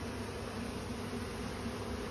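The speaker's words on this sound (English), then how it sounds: "letting all the bees back in." Honey bees buzzing around a hive entrance after the entrance reducer is removed in autumn, a constant soft droning hum with no breaks, heard alone without talk.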